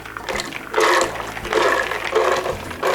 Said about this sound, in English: I'm going to transfer the soaked beans into my blender.